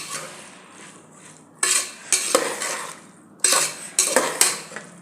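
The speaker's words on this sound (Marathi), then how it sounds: "बघा हे सगळं असं व्यवस्थित परतून घ्यायचं आहे।" Chopped vegetables for pav bhaji being sautéed in a pan, heard as a run of loud, close spatula scrapes and clanks against the metal in bursts, with softer stirring and a low hiss between them.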